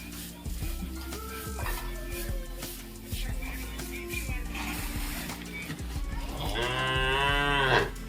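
Village cows low repeatedly nearby, with several drawn-out moos and a loud, rising bellow near the end, while people talk in the background.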